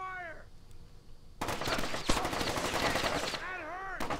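Video game gunfire in a spy mission: bursts of rapid automatic shots rattle loudly for about two seconds, with a sharp crack in the middle, framed by brief drawn-out vocal cries before and after.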